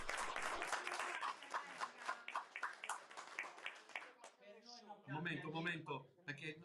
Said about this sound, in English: Yes, as you hear, they're applauding here.